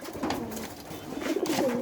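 Pigeons coo softly nearby during a pigeon-catching outing, with a couple of low, rolling coos rising toward the end.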